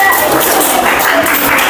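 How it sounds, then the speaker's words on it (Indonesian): Steady, dense applause from a classroom audience for classmates, loud and continuous throughout. "Kasih aplaus untuk teman-temannya."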